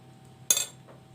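A spoon strikes a dish once, giving a single bright metallic clink close by in a quiet kitchen while food is worked in the pan.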